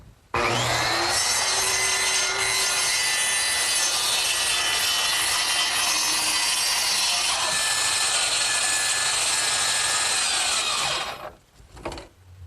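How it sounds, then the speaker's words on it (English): A power saw cuts steadily through plywood along the lower edge of a Shaker tall chest's back panel, one loud continuous run of about eleven seconds that stops abruptly and winds down. "now I'm ready to cut out some plywood at the lower edge of the back"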